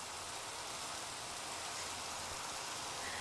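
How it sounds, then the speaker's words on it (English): Rain falling, a steady, even hiss of dense drops heard from start to end with no change in intensity, fairly quiet and heard alone. "of course it started raining just as I'm about to end"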